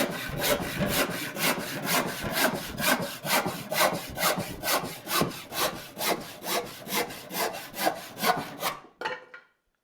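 A hand saw cuts through 1.5 inch thick wood in about twenty quick, evenly spaced strokes, each a rasping push. The strokes stay loud and close, then stop abruptly near the end.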